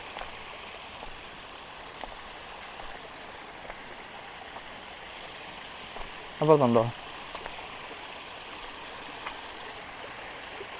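A small stream trickles out of a pond at Avalon Nature Preserve with a soft, steady flowing hiss, and a brief spoken question cuts in partway through.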